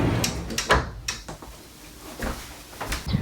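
A sliding door between a boat's cockpit and saloon on a DS54 yacht, heard as a few close rolling and thudding knocks with a sharp clack near the start and another at the end.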